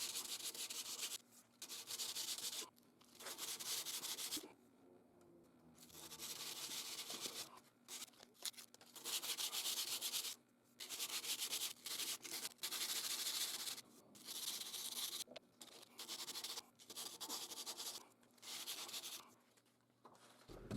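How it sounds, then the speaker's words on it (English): Hand sanding of a steel knife blade with fine 400-grit sandpaper, strokes running parallel to the blade: repeated bursts of close, dry scratchy rubbing separated by short pauses, steady back-and-forth rhythm with no talking. "here we'll sand parallel with the blade"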